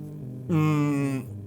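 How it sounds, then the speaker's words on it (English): A short buzzing whine rises abruptly, holds steady for under a second, then drops away, as the built-in kickstand pushes the Zotac Zone handheld's shell into its fan. "This is the sound of the built-in kickstand pushing the shell of the Zotac Zone into the fan."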